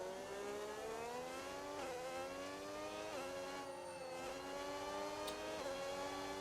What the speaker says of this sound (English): we're going healthy engine sound here with Karen